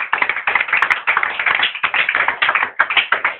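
A church congregation clapping fast and continuously to acclaim Jesus, many hands slapping in a dense, lively rhythm, close and loud with no talk over it.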